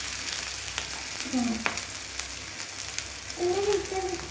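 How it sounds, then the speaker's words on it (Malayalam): Coconut oil sizzles and crackles steadily as rice-flour snack pieces fry in a pan, with faint stirring clicks and brief bits of talk in the background. "നേരത്തെ മുറിച്ച് വെച്ച പീസെല്ലാം ഇതിനകത്ത് ഇട്ട് കൊടുത്ത് നന്നായിട്ടൊന്ന് മുരിച്ചെടുക്കാവുന്നതാണ്"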